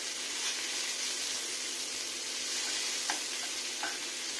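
Sliced onion frying in hot oil in a pan gives a steady, close hiss of sizzling, with a few brief crackles and pops rising above it.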